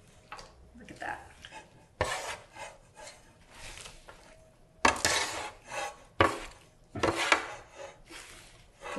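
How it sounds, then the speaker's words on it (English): Brussels sprout and orecchiette pasta tossed in a creamy dressing with wooden spoons: wet, squelching scrapes and rubbing wood knocks in irregular bursts, close and fairly loud. "And then you just toss it, and you can hear how creamy it is."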